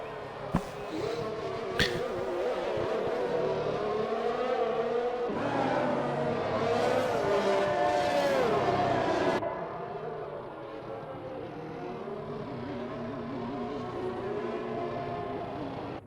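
Racing video game engines in a Formula-style sim race at Saudi Arabia, heard as a steady layered whine of several race cars, loud and continuous with shifting pitch, dropping slightly in level partway through.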